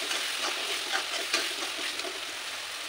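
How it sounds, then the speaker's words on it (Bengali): Vegetables with chicken masala powder and vegetable spice mix fry steadily in hot oil, a dense, continuous close-up sizzle with faint stirring scrapes throughout and no talking. "খুব সুন্দর ভাজতে হবে তারপরে যেন তেলটা উপরে আসে"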